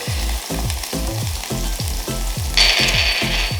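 Green onion and garlic hitting a hot pot for a chickpea coconut cream curry, a loud, steady close sizzle with rhythmic scraping strokes of stirring throughout and a brief burst of brighter hiss near the end.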